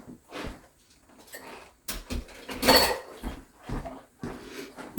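Metal mixer beaters and dishes clatter into a kitchen sink in a few sharp, close knocks and clanks separated by short pauses, with handling noises in between.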